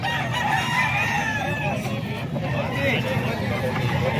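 Roosters crow over a busy, noisy background with a low rumble and people talking nearby, at a chicken market in Calumpit.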